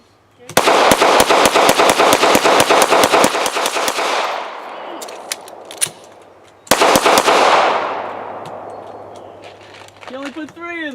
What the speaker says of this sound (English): We'll shoot it some more just to make sure, put some more rounds through it